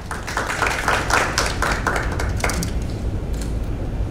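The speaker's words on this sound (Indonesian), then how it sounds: "Kita kasih tepuk tangan buat Ferdinand Sinaga." A group claps for new football player Ferdinand Sinaga at a team press conference and training session, with dense, fairly close clapping that holds steady for several seconds.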